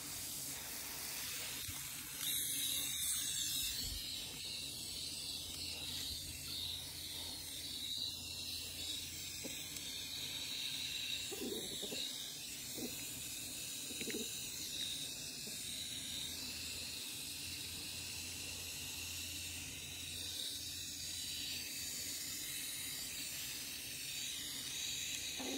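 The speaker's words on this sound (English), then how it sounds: "I'm going to water these in with the shower nozzle" A hose with a shower nozzle waters herbs planted in a garden tower made from planters, giving a steady soft hiss of spray that runs on unbroken throughout.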